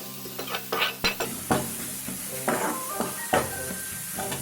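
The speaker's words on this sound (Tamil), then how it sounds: "நல்லா அந்த பச்சை வாசனையெல்லாம் போகிற வரைக்கும் நெய்யில் நல்லா வதக்கிடுங்க." Bottle gourd sautéed in ghee in a pan for payasam, a gentle sizzle broken by repeated clinks and scrapes of a metal spoon against the pan, close and fairly quiet, with no talking.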